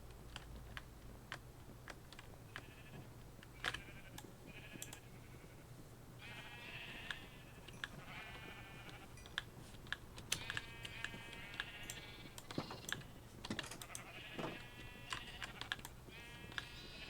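Sheep bleat several times in Minecraft's Jurassicraft mod, fairly faint, mixed with frequent sharp keyboard clicks and a steady low hum.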